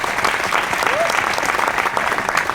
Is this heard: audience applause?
yes